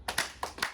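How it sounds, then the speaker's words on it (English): Children clapping in a classroom, two pairs of quick, sharp claps in a rhythmic double pattern, fairly faint and without speech. "If you agree with them, go ahead and give them 2 claps"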